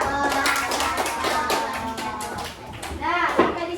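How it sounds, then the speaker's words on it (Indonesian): A class of children claps together in a quick, steady patter of light taps, fairly close, with a voice briefly rising near the end. "Tepuk tangan kepada nomor 3."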